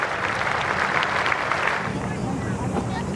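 A cricket crowd at a test match between Australia and New Zealand gives a round of applause as batsman Brendan McCullum walks off, a broad, distant wash of clapping blurred by wind noise, easing after a couple of seconds.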